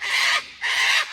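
A noisy cockatoo screeches twice in a garden on a foggy morning, two loud, harsh calls close by, separated by a brief pause.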